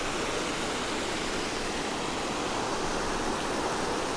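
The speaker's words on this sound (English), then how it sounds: "There's a bit of runoff there." Rushing runoff stream near Alberta Falls, a close, loud, continuous broadband water roar that stays steady throughout with no voices.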